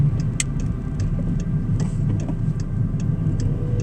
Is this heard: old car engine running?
yes